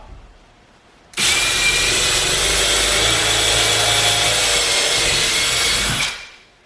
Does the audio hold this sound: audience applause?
no